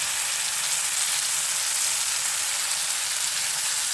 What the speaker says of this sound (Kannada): ಈ ಮಶ್ರೂಮನ್ನು ಇದು ಹಾಕಿ ಬಾಡಿಸ್ಕೋಬೇಕು ಚೆನ್ನಾಗಿ